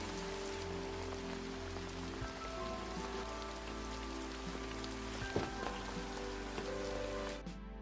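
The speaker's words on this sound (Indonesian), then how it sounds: "Di tengah hujan" Steady rain falls and patters on surfaces in a dense, even hiss that carries on throughout, with soft music tones sustained beneath it.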